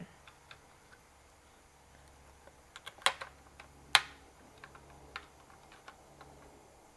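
A Bluetooth computer mouse has its base prised off, giving a few sharp plastic clicks and snaps, the loudest two a second apart. Fainter ticks of small plastic parts come before and after, close and quiet, with no talk.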